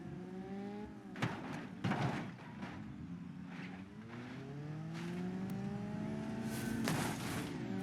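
Engine revving in BeamNG.drive as a car accelerates and drifts off the start line, with rising and falling engine tones and short bursts of tire noise, fairly loud and steady with no talk.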